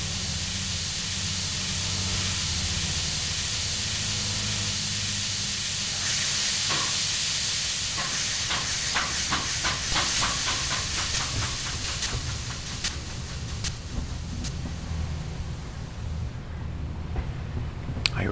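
Game train in Mystery Railroad backing up to couple carriages, with a steady hiss of steam and a run of rhythmic mechanical clicks that then settle back into the hiss.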